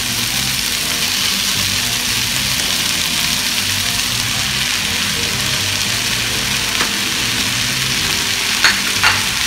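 Shrimp fry in a pan over a tomato mixture, giving a loud, continuous sizzle with steady crackling throughout and a couple of brief clinks near the end.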